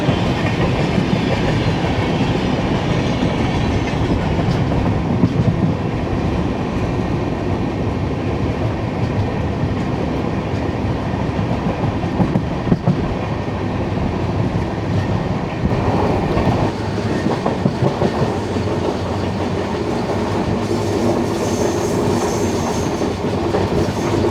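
Inside a 2A coach of the 16332 Express, a steady rumble of the running train carries a rhythmic clickety-clack of wheels over rail joints, with a brief squeal and shifting tone partway through.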